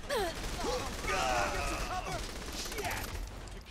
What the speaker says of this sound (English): Just shoot them, Pierce.